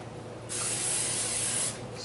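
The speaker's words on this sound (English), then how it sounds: "I'm going to spray my pan." A single steady burst of cooking spray onto a cake pan hisses for just over a second, close and fairly loud, then cuts off.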